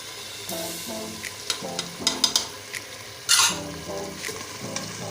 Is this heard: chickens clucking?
no